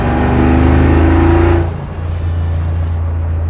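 A 1986 Chevrolet Silverado with a swapped LT4 V8 pulls hard under acceleration, a loud, dense engine roar that drops off sharply partway through and settles into a steady lower drone.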